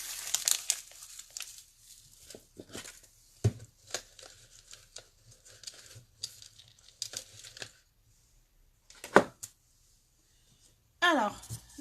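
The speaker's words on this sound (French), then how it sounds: "Le temps d'ouvrir mon papier." Gift paper is unwrapped by hand and crinkled while an Easter basket and card are prepared, giving repeated close crackles and tearing rustles in uneven bursts with pauses between them.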